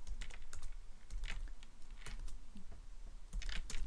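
Rapid typing on a computer keyboard while coding, with a steady, uneven patter of close key clicks and occasional louder strikes, heard alone without talking.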